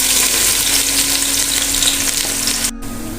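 Four medium onions, sliced, fry in hot cooking oil for chicken biryani, making a loud, close, continuous sizzle that drops to a quieter hiss after a brief cutoff near the end, with no talking.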